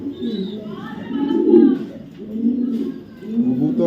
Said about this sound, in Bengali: এটা একটা কবুতর